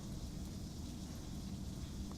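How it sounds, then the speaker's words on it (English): Rain falls steadily outside, a faint constant hiss of drops picked up through a room microphone, with no talk over it. "Now, I might be picking up on the microphone here, and I think it is, because I can hear it in my monitors, but it's raining outside"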